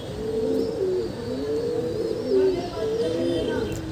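A female pigeon coos repeatedly nearby in soft rhythmic low calls over a steady background hum.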